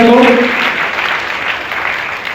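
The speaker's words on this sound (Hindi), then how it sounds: "तालियां जरूर बजाया करो" An audience at an international Ramayana convention and award event applauds to welcome a guru, a broad, sustained wash of clapping after a voice trails off at the start.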